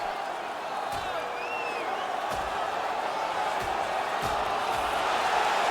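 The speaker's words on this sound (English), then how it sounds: "The crowd is on their feet, and they're trying to give their teams a little spark." A hockey arena crowd on its feet, producing a steady, dense roar of cheering and murmur with a few faint whistles and thumps under it, sustained and distant.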